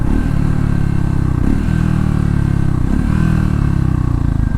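A Triumph Scrambler 400X motorcycle engine running loud and close, a steady droning rumble with a couple of brief dips as the revs shift, no voices over it.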